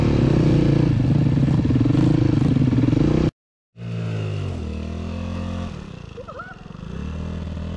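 A motorcycle engine runs loudly close by, rumbling and revving, cutting out briefly before idling again with some clatter.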